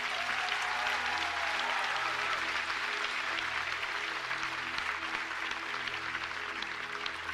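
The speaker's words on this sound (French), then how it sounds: "Est-ce qu'on peut acclamer ce nom de Jésus?" A church congregation applauds and cheers the name of Jesus, with sustained, dense clapping that stays steady and fairly loud throughout, with no talking.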